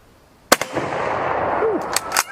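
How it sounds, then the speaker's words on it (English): A Mosin-Nagant 91/30 bolt-action rifle fires one sharp, loud shot outdoors, followed by a long rolling echo and then a couple of short mechanical clacks near the end. "I've always enjoyed firing the Mosins in the morning"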